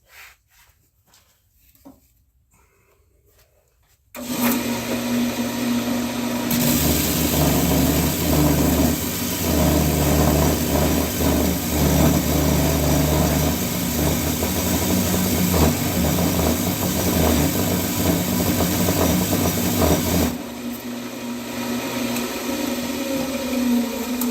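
A segmented cherry wood vessel being sanded on a spinning lathe, a loud steady motor whir with rubbing friction that starts abruptly after a quiet opening and runs continuously.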